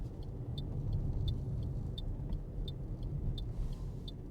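Car driving along a suburban street and turning left at its end, a steady low engine and road rumble with a faint regular ticking, like a turn indicator, above it.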